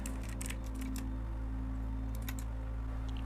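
Keys tap on a computer keyboard in a few quick bursts while a search is typed, fairly faint over a steady low hum.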